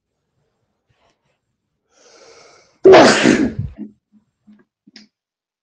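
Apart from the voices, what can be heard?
sneeze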